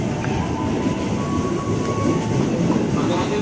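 Inside a long twelve-car KRL commuter train carriage running between Depok and Jatinegara, a steady rumbling roar of wheels and motion fills the space, with faint rattles and a thin whine over it.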